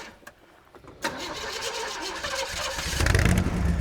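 A 1976 Chevy G10 van engine cranks briefly, then catches and starts, settling into a rough idle that grows louder and deeper as it revs, heard close up with no talking.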